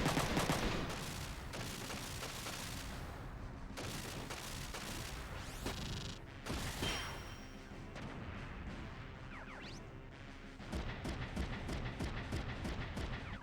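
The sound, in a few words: gunfire attack from the video game Front Mission 3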